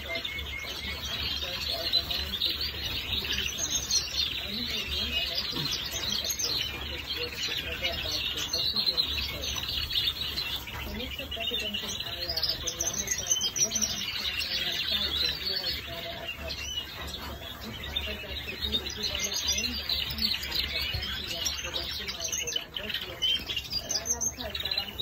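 Breeding birds in an aviary chirp and squawk continuously in a busy, overlapping chorus, while a person speaks over them throughout.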